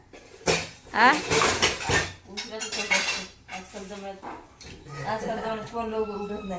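Pots, dishes and cutlery clatter and bang in a home kitchen in loud bursts, with people talking over and between the clashes.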